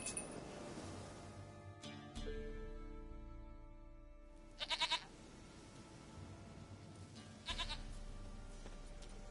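A goat bleats in a PS4 video game, giving a few quiet, short bleats spread across a soft ambient background, with brief clinking sounds in between.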